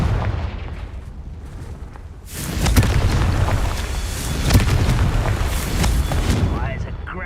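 A Confringo fire spell bursts in the Hogwarts Legacy game, a sudden loud roaring blast that swells and rumbles on for several seconds.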